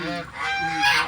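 Pet ducks at home give a short burst of loud, nasal honking quacks, close by and brief, with no talk over them.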